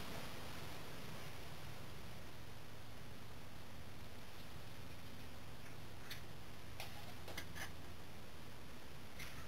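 A timer ticks steadily through a constant hiss of background noise while an alcohol stove burns under a windscreen, a few sharper clicks standing out near the end.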